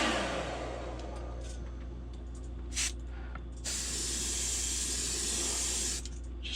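Iwata Eclipse HP CS airbrush sprays paint in short bursts of close, soft hiss over a low steady hum, ending with a longer continuous spray.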